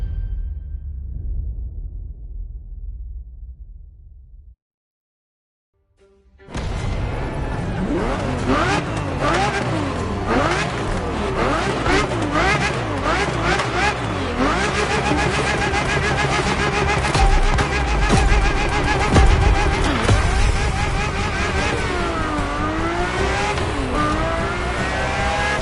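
A Ferrari F50 drives in The Crew Motorfest: after a short low rumble and a brief gap, a loud, close engine revs hard through repeated rising and falling gear changes, with high-pitched wail and occasional tire noise.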